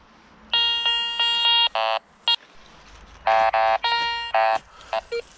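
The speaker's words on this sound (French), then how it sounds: "Bon allez, on va commencer le détecteur ici." A metal detector sweeping through a sloping forest in the Ardennes gives a run of loud, harmonic electronic beeps and short tones in repeated bursts, with brief gaps between signals and no talking.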